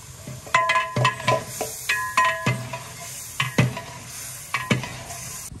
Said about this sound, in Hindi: अच्छे तरीके से इसकी भुनाई करेंगे इस सब्ज़ मिसाले के साथ